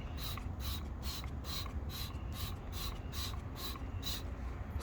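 Griot's Garage Ceramic Speed Shine detailer sprayed onto a car wheel in a quick series of about a dozen sharp hissing bursts, close and steady, with no talking.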